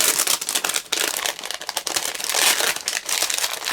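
Continuous loud crinkling and rustling of the plastic packaging around a roll of tape, close up and busy, with no talking.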